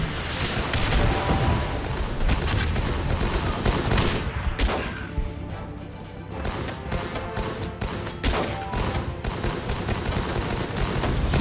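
Constant gunfire in the combat video game Guns Up!, dense overlapping rifle bursts and machine-gun fire with occasional booms, loud and unbroken throughout.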